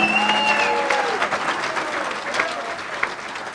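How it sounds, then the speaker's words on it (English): Audience at a bowling hall of fame induction ceremony applauding an inductee, loud sustained clapping from a large crowd that eases slightly toward the end. "One more round of applause for all of our Hall of Famers"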